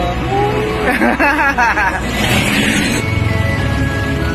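Isuzu Trooper with a 4JX1 diesel engine running on a test drive, a loud close engine drone with rising revs, mixed with people talking over it.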